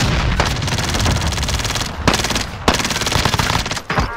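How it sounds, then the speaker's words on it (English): Dense, rapid gunfire in a video game fills the whole stretch, loud and close, with a couple of brief gaps between bursts and no talking. "how many pistol rounds did I put in that guy?"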